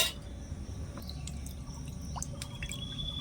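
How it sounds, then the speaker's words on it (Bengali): Water from rinsing a curd bowl is poured into a mixer jar, a soft continuous trickle with a few drips, close and quiet, with no voices. "আমি দইয়ের বাটিটা ধুয়ে জলটা দিয়ে দিচ্ছি"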